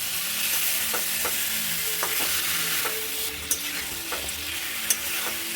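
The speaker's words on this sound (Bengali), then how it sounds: "একসাথে মিক্স করে নেবো পুরোটা" Potatoes, fried cauliflower and spice paste are stirred together in a hot pan, a steady sizzle of oil with scattered scrapes and light clinks of the spoon, close and constant.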